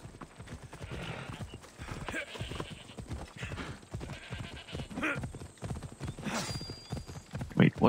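Horse hooves clip-clop steadily with an occasional neigh in the Assassin's Creed Odyssey video game, under game music and effects, while someone talks over it.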